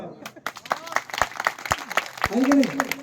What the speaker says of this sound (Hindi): ये बच्चे के लिए ताली बजाओ।